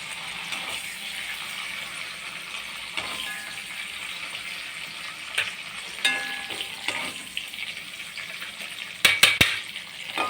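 Spices tempering in hot oil in a pan for rasam, with coriander added, sizzle and crackle steadily and close up, with occasional clinks of a utensil against the pan and no voices.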